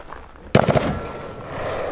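A single sharp gunshot rings out at close range, a frangible round fired into a test block during an outdoor live-fire demonstration, its crack followed by a short echoing decay.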